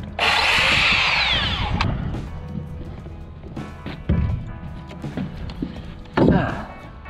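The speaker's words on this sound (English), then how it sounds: "Plunge cut on an angle." A power saw makes an angled plunge cut while framing a rake wall: a loud burst of blade whine for about two seconds, then quieter shop noise with short clattering knocks and one more brief cutting burst near the end.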